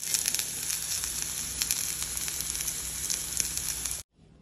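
Dried fish wrapped in young gourd and taro leaves frying in hot oil, giving a close, continuous sizzle with small crackles and spits that cuts off abruptly near the end.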